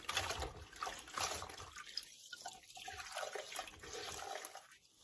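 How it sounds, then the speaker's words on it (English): A cloth is rinsed under a running kitchen tap, making a steady, fairly quiet stream of splashing water with small fluctuations as the cloth moves through the flow. "I will need to wash my cloth and just freshen it in between"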